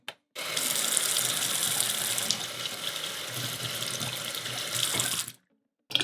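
A safety razor is rinsed under a running tap, a steady broadband gush of water into a sink lasting about five seconds, close and fairly loud, starting and stopping abruptly with no talking.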